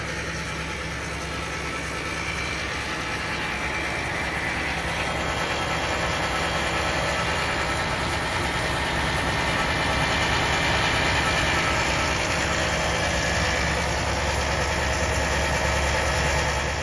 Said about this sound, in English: That's gonna get loud here because the pump is pretty loud.